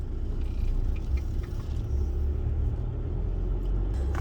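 A 2021 Force Gurkha SUV turns through a U-turn, its engine a steady low rumble heard from nearby with continuous road noise and no talking.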